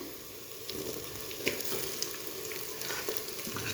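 Chopped tomato and green chilies go into a hot frying pan for a spicy Punjabi dhaba-style chicken curry, giving a steady close sizzle with small crackles and stirring scrapes, no talk.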